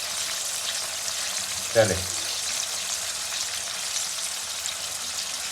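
Potatoes and tomato sizzle in frying masala for aloo gobhi, a steady soft frying hiss throughout with one brief clatter as the vegetables go in, and a short spoken word over it.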